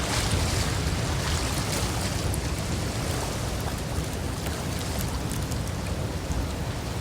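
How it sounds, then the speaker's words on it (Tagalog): Strong ocean waves crash and wash steadily against the rocky shore at Red Rocks Reserve in New Zealand, a dense roar of surf that fills the whole stretch without letting up. No voices are heard. "Lakas ng alon."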